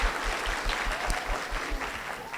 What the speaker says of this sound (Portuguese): palmas para a Letícia.